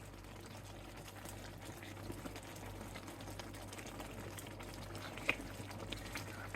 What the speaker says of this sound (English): you're going to get a little bit of the sound so you can hear exactly that bubbling away